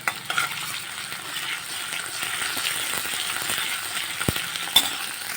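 Oil crackles and sizzles steadily in a pan, with soft stirring scrapes and a couple of sharp pops, before ridge gourd goes in.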